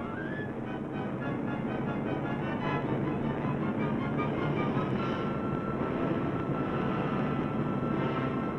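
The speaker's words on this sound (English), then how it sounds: "the Russian Strategic Air Command, now possesses the Tug-75, a turboprop bomber able to make the round trip from Berlin to Boston" A turboprop bomber in flight gives a steady, droning engine roar with a washing, windy texture, moderately distant and continuous throughout.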